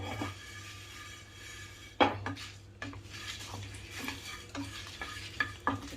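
Red chillies and coriander seeds dry roasting in a pan without oil, a steady scraping stir of a spatula against the metal with light rattling and clinks, a low hum underneath throughout.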